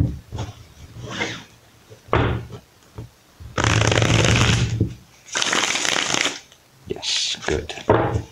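Tarot cards are shuffled in several bursts of riffling and flapping, close and fairly loud, separated by short pauses with soft handling noises.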